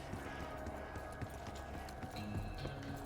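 Galloping horse hooves in a video game, a rapid run of hoofbeats that stays steady and fairly close, mixed with game ambience and faint tonal sounds throughout.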